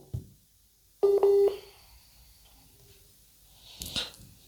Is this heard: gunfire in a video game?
no